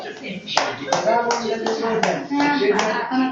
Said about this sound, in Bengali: আর কেমন করে কত হাততালি দিয়ে দিচ্ছি আমরা